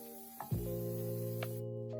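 A spray bottle mists hair during soft locs styling, one short hiss near the start followed by a steady hum and brief faint sprays, close and quiet with no talking.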